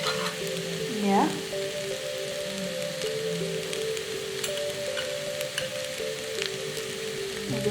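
Rice frying in coconut oil in a home kitchen, stirred continuously, with a steady close sizzle and crackle and faint scraping of the utensil, with no talking.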